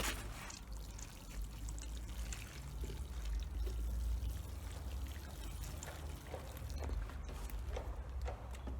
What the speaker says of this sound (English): Okay, so I have the water here, and I'm going to just water them in.